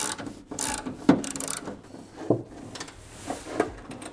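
Rear wing mounting bolts are tightened by hand inside a car boot, heard as a few short bursts of ratcheting clicks with brief metallic knocks between pauses, close and fairly loud, no voices.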